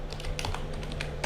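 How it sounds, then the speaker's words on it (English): Keys on a computer keyboard are typed in a quick, uneven run of light clicks and taps, close up, with a faint electrical hum and no talking. "so just type pip install"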